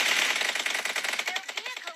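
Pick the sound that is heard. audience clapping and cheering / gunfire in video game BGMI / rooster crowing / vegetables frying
gunfire in video game BGMI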